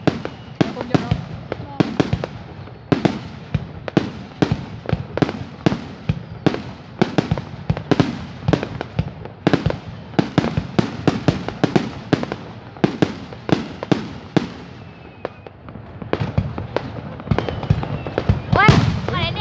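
A district fireworks display in Vietnam, shells bursting one after another in sharp, regular bangs for nearly twenty seconds, fairly loud and close, while people nearby chat over the explosions.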